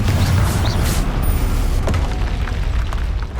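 A Confringo blasting spell in Hogwarts Legacy erupts with a loud, sustained booming explosion and rumbling bursts, close and dominant with no talk.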